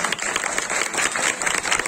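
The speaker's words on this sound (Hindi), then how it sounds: "और जोरदार तालियां भी हो जाए" Dense, steady applause from an audience at a public event in Chicago's Sector 37 marking a memorial anniversary, continuous hand clapping filling the whole moment at close range with no talk over it.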